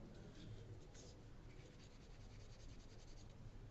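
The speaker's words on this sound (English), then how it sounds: "So I'm holding my pencil more horizontally to use this side of it." A graphite pencil held nearly flat, its side shading across paper in a continuous soft, dry rasp, steady and close, with faint repeated strokes and no voices.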